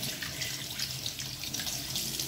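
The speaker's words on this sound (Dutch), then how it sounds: "Dan zet je de kraan open. En spoel je het heel goed af." Tap water running into a sink while soapy hands are rinsed, a steady moderate splashing stream with small fluctuating spatters, heard alone without voices.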